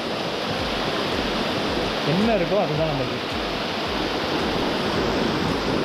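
Water pours steadily over Kurumachangadu falls near Salem, a small waterfall running low. A continuous rushing wash fills the whole stretch while a person talks over it.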